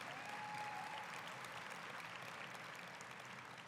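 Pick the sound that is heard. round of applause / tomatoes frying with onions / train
round of applause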